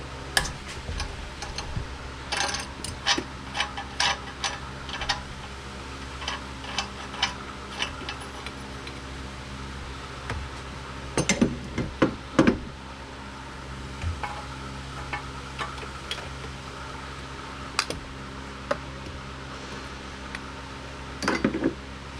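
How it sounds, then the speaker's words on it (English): A flex head wrench works an O2 sensor loose on a 2005 Toyota Sienna, producing faint, scattered metallic clicks and ticks at an uneven pace, with a brief busier cluster partway through, over quiet background hiss. "So they call it a flex head wrench. Remove that O2 sensor."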